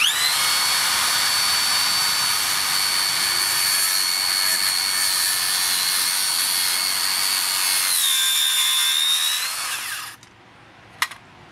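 A Makita 40V 125mm HS005G cordless circular saw cuts with a loud, steady, high whine that holds for about eight seconds. The pitch dips as the cut finishes and the motor winds down, followed by a short sharp knock.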